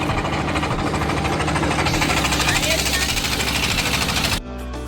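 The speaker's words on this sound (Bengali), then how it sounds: "ট্রলার চালাইতেছে" A fishing trawler's engine runs loud and close, a rapid, throbbing mechanical chug with heavy vibration that holds steady until it suddenly drops off near the end.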